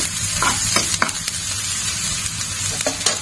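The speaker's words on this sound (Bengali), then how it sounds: "এখন পেঁয়াজটা একটু ভাজা হয়ে গেলেই আমি দিয়ে দেবো তোমার লঙ্কা।" Onions frying in a pan for a light small-fish curry crackle in a close, continuous sizzle, with a few sharp scraping strokes of a spatula stirring them and no one talking.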